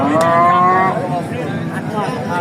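A Jersey cow gives one loud, close moo lasting about a second at a livestock market in Talgachhi, Sirajganj, followed by steady crowd noise.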